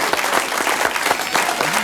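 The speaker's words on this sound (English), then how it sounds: "Are we going to clap them or not?" An audience applauds a film crew's work, dense and fairly loud clapping that holds steady throughout, with a faint voice briefly audible under it.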